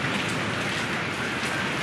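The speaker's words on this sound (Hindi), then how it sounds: "बारिश आ गई तो गुड्डू नहा लिया है।" Heavy rain pours steadily during a monsoon downpour, a dense, continuous hiss of drops on surfaces that stays loud and even throughout, with no voices.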